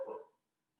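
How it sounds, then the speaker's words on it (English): A dog gives a single short bark, close and fairly clear, during a presentation about water in Arizona, then falls quiet. "If the barking gets really bad, let me know and I'll take some action"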